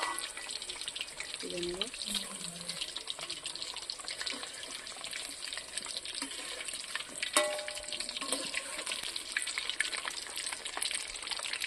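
Chicken cutlets and wings fry in hot oil, a steady loud sizzle as water cooks out of the meat, with a brief voice speaking over it.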